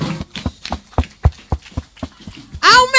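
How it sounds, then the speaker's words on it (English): A group of schoolchildren at a school Thanksgiving service clap for themselves in a quick rhythmic pattern of sharp claps, ending in a burst of excited young voices. "clap for yourself."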